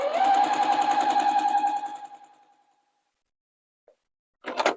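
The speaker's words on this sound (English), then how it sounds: "I want to sew in a straight line from here, where I started, to right there" Sewing machine stitching scrappy fabric binding in a straight line, a rapid close mechanical whir lasting about two seconds before slowing to a stop, followed by silence and a couple of brief clicks.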